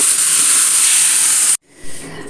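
Cooked jackfruit tipped into a pan of well-browned frying onions for a Kerala jackfruit stir-fry, giving a loud, steady steamy hiss that cuts off abruptly, then a softer sizzle resumes.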